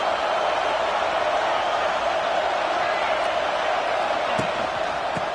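A football stadium crowd at an Eastern Michigan game gives a continuous, dense roar of cheering and noise, steady and loud from start to finish with no single voice standing out.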